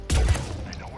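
A single sniper rifle shot in Mass Effect 3 cracks loud and close, then trails off into a brief rolling echo and reverb, with no talk over it.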